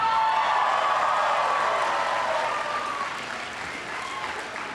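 Graduating seniors at a high school graduation ceremony give a big burst of applause and cheering in a large crowd, loud at first and gradually easing over a few seconds.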